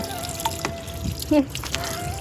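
A tap runs at a grandmother's village house, giving a continuous close trickle of water with faint background voices and a few short tonal chirps.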